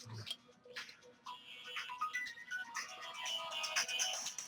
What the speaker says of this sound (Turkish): Telefon çalsın boşver.